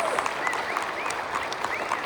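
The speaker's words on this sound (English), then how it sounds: "How about one more round of applause for our student musicians, vocalists?" Applause from a winter concert audience for student musicians and vocalists, a continuous wash of clapping that sounds somewhat distant and even, with a few faint whoops above it.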